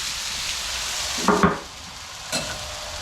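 Philly cheesesteak meat sizzles softly on a Blackstone griddle in a zone that has been switched off, giving a steady hiss broken by two brief scraping stirs of a spatula.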